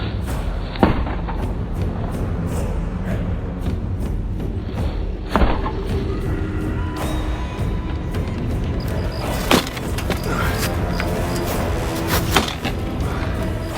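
A heavy 3.5-pound warhammer strikes a wooden shield: several loud, sharp impacts land at irregular intervals over constant background noise, each a cracking thump.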